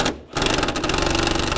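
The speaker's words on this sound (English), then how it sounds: "Take these screws out down here. Use a T25 socket." A power tool with a T25 socket driving out screws on the front bumper of a 2015-2020 Cadillac Escalade, a loud, fast buzzing whir that starts after a brief pause and runs steadily to the end.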